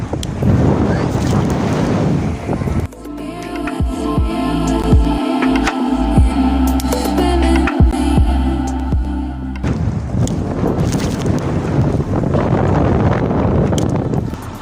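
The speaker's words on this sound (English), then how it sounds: "it is windy, it is rainy" Blustery wind buffets the microphone on a rainy Irish fishing outing near Dungarvan, a loud steady roar with gusts, and a stretch of mechanical engine rumble with clunks in the middle.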